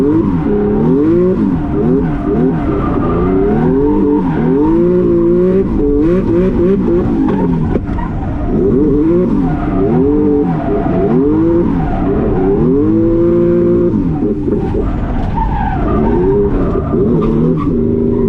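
An 800 whp Nissan 370Z drifts with its engine revving hard and rising and falling in repeated waves while the tires squeal continuously, loud and close throughout.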